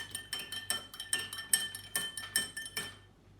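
A spoon clinks rhythmically against a glass as water and syrup are stirred together, about ten bright, close taps in a steady rhythm that fade out at the end.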